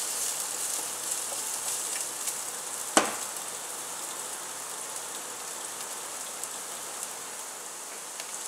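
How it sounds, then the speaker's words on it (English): Shrimp and onions sizzle in a pan for teriyaki noodles, a soft continuous hiss with scattered pops, after one sharp knock as the shrimp drop in; close and steady, with no talk. "And then we're going to add in our shrimp."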